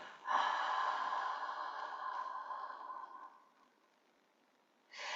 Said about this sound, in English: if you need to breathe out through a relaxed mouth, as if you're blowing on a mirror